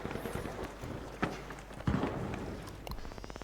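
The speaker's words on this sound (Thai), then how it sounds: "เสียงเท้าใคร" Footsteps in the first-person shooter The Finals thud irregularly amid busy game noise, with a few heavier impacts and a rapid rhythmic patter near the end.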